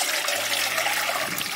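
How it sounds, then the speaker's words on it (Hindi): Water pours steadily over grated lemons in a large vessel, a continuous close splashing trickle with no talk. "मैं आपको पानी गिरा के दिखाती हूँ"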